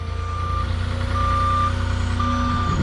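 A truck backing up at a construction site sounds its reversing alarm in three evenly spaced beeps over a low, steady engine rumble.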